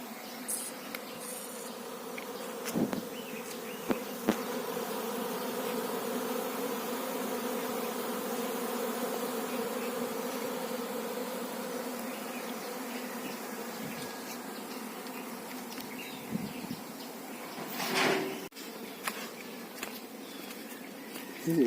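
Honey bees swarm around hive boxes at an apiary in a mustard field, a steady, soft, continuous buzzing drone with occasional faint handling noises.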